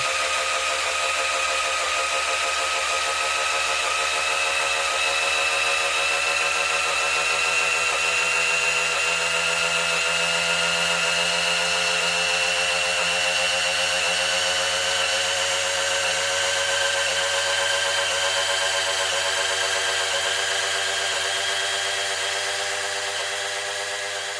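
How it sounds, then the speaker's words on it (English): A corded power drill runs continuously at a steady, loud whine for the whole stretch, close by, its motor pitch drifting slightly. "So I upgraded to a plug-in drill."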